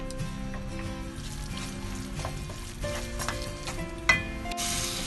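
Palak paneer mixture with chili powder being stirred in a pan, a steady soft sizzle running throughout with scraping stir strokes and one brief clink near the end.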